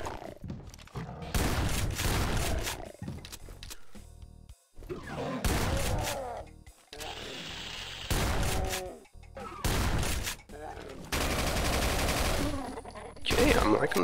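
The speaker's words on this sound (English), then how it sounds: "This assault rifle so far. It's powerful. Yeah, it sounds pretty powerful." Assault rifle fire in a Doom mod video game: loud bursts of rapid automatic shots in repeated volleys separated by short pauses, with booming impacts and game effects between them.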